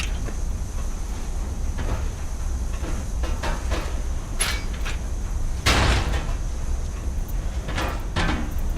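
A heavy metal door in a machine room of the Penumbra: Black Plague video game slides and clanks open, with scraping rumble and several sharp metallic knocks over a constant mechanical hum.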